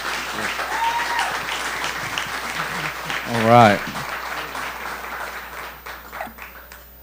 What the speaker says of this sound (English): a round of applause for Chef and his team